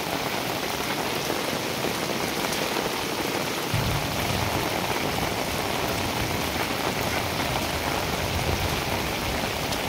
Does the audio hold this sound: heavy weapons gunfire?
no